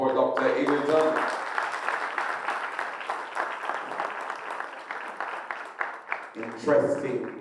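Audience applause for a speaker at a research day opening plenary, a sustained round of clapping that swells and gradually thins, with a voice talking at the start and again near the end.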